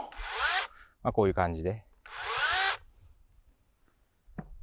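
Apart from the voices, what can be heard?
Makita pole saw chain running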